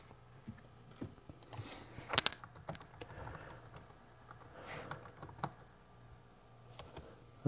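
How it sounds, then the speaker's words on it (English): Computer keyboard typing clatters in irregular quick bursts of keystrokes, close and fairly quiet, with one louder cluster of clicks and no speech. "Sorry, I was typing something."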